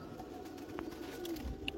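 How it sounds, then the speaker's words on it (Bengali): Pigeons, including young birds, coo softly while eating mixed feed, a low, faint murmur in a short, quiet stretch. "দেখেন কত সুন্দর কবুতর"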